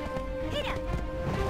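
A horse neighs in the video game Black Desert Online, a short whinny with hoof clip-clop over a busy game soundscape and music, with a player's voice talking over it.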